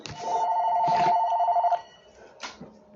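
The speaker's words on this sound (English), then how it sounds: "phone's ringing. Yeah, that's the house phone" A house telephone rings indoors with two bright electronic trills, the first long and the second brief, close and clear with no talking.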